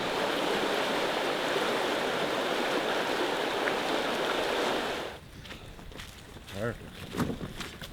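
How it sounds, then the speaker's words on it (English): Steady, dense rush of river rapids close by along a backcountry canoe route in Algonquin in May, then cutting away to quieter sounds with a few footsteps and knocks. "The river is rapids here, so that's why we have to make a 1 kilometer portage all the way around this."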